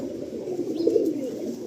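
Pigeons cooing in a rooftop pigeon loft, a soft low throaty coo rising and rolling near the middle, close and alone against faint background hiss.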